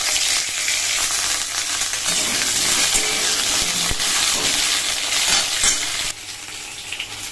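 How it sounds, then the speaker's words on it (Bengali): Pointed gourd (potol) frying in a small amount of oil in a pan, a steady, dense sizzle that holds close and loud throughout, with occasional stirring scrapes and a slight drop in intensity near the end. "আমি আগে অল্প তেলে চেষ্টা করি পটলটাই ভেজে নেওয়ার।"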